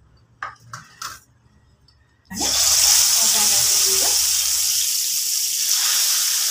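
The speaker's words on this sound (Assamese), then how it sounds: "এতিয়া মই এইদৰে মছলা লগাই লোৱা বেঙেনাকেইটা এটা এটাকৈ দি যাম।" Spiced brinjal (eggplant) pieces slid into hot oil set off a sudden loud sizzle that keeps hissing steadily, after a few soft clinks and handling sounds.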